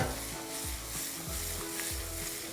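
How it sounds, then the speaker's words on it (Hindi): Potatoes frying in mustard oil in a pan, a steady, dense sizzle filling the whole stretch at moderate volume, with faint stirring scrapes underneath and no talking. "पहले आलू को हम फ्राई कर लेंगे, भून लेंगे, उसके बाद भिंडी जाएगी।"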